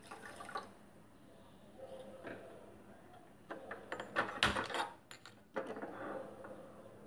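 Water poured into sugar in a pan to make syrup for gulkand gulab jamun, heard as faint trickling and dripping with clinks of a utensil, growing busier near the end; no talk.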